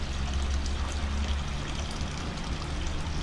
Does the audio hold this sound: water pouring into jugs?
yes